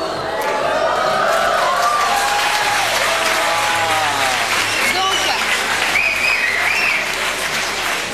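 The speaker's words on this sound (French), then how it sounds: "Donc, on peut les applaudir." Studio audience applause on a French television talk show, broad and steady throughout, with cheering and a host's voice speaking over the clapping.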